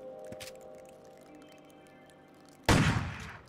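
A single loud video-game gunshot, a Magnum in Crow Country, cracks out near the end after a quiet, humming stretch, its blast trailing off over the final second.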